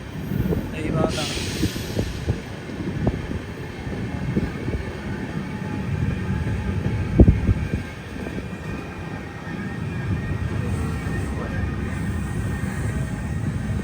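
The Thiruvananthapuram Mangaluru Express pulls into Kottikulam station in Kerala: a steady, loud rolling rumble of wheels and carriages that lasts throughout, with one sharp clunk partway through and faint voices in the background.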